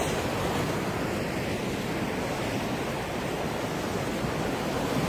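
Sea waves washing in steadily at the shore, a continuous broad surf roar with no talk over it, fairly loud throughout.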